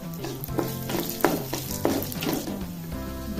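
Chana dal and urad dal roasting in a pan over low heat, with a steady sizzle broken by repeated stirring scrapes and clatters, close and fairly loud throughout.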